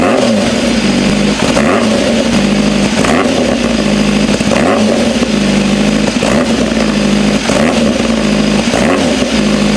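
A 2025 Honda CBR 1000RR-R Fireblade sport bike engine revs repeatedly on the throttle, loud and close, with a rising and falling roar that never lets up; the owner reports a hesitation when the throttle opens.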